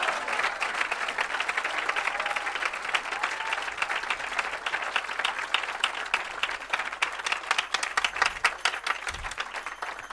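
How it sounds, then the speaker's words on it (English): Sustained applause from an audience at a Hare Krishna kirtan chanting gathering, dense steady clapping filling the room for about ten seconds with a few sharper claps near the end. "Give them a big round of applause."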